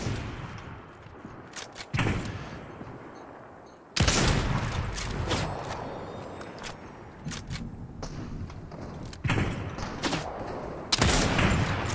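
Gunfire in the Fortnite video game: sharp bursts of shots recur every couple of seconds, some louder and closer, with a loud volley at four seconds, all over steady background game noise and no talk.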